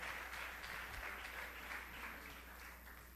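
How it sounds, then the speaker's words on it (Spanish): Church congregation applauding during a service, a faint, even patter of many hands clapping together over a low background hum, heard from a distance and gradually tapering. "Denle ese aplauso al Señor más fuerte"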